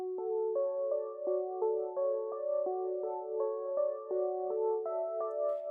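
A synthwave-style synthesizer part from Analog Lab plays alone: clean, sustained electronic chords shift step by step in a steady, even rhythm, soft and close with no voices.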